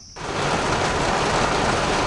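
Steady, dense rain begins abruptly and keeps falling as a loud, even hiss, like a downpour drumming on a surface nearby.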